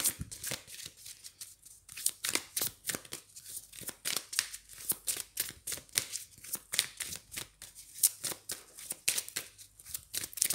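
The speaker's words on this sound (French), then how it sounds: "Je vais remélanger un petit coup" Tarot cards are shuffled by hand in quick repeated riffles and flicks, a dense irregular run of crisp papery snaps, close and fairly quiet.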